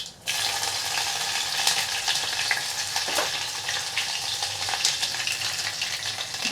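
Green chillies hiss and crackle in hot tempering oil already spitting with mustard seeds and cumin, a dense steady sizzle with scattered pops, close and loud with no talk.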